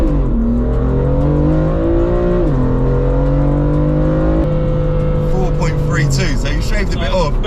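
A BMW M4 accelerating hard, the engine note rising in pitch through gear shifts, loud and close, with brief voices over the top near the end.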